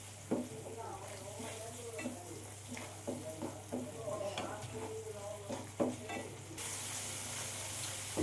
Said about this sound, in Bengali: এই দেখুন আমি এভাবে মশলাটাকে নাড়িয়ে নাড়িয়ে কষিয়ে নিচ্ছি